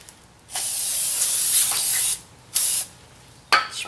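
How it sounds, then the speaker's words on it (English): Several loud hissing bursts of aerosol brake cleaner sprayed on a brake rotor of a 2006-2012 Ford Fusion, one long blast followed by two shorter ones, close up with no talking. "Okay, so I'll spray them"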